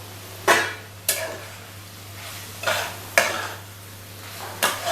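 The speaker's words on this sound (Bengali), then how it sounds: "ভেন্ডিগুলো যেগুলো ভেজে রেখেছিলাম ওগুলো এর সাথে মিশিয়ে দেব।" Fried okra is stirred into pickle masala in a pan: six or so distinct scraping strokes of a spatula, spaced irregularly, over a low steady hum and a light sizzle.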